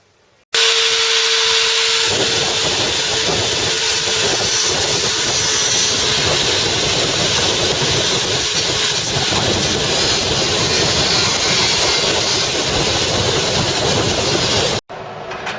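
MIG welder laying beads to fix a repair baffle into a Mk3 Ford Cortina body shell, a loud continuous crackling buzz that starts after a brief hum and runs steadily until it cuts off near the end.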